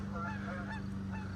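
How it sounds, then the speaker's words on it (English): Geese honk repeatedly in a backyard garden, several overlapping nasal calls fairly close by, with no talking over them. "We got geese everywhere."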